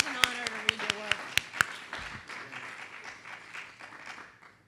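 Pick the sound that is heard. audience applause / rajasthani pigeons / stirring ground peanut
audience applause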